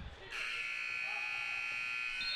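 A loud electronic buzzer sounds at a basketball game to end the first quarter, a sustained, steady harsh tone starting abruptly and holding for about two seconds over faint arena noise.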